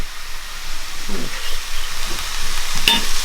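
Broth is stirred into a homemade soup cooking in a pan: a soft steady sizzle and hiss with a few gentle scrapes and stirring strokes and one sharper clink near the end.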